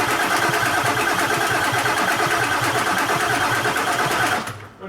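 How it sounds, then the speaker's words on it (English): A 7.3 Powerstroke diesel engine in a cheap auction pickup cranks over without firing, the starter churning in a fast, even rhythm for several seconds, loud and close, then cutting off at the end. "Let's just crank it and build some pressure."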